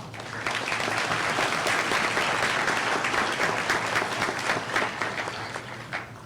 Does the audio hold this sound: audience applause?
yes